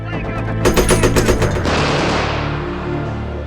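A .30 cal machine gun firing on a World War II film set, a loud rapid burst of shots lasting about a second, then a long rumbling echo and battlefield noise fading away.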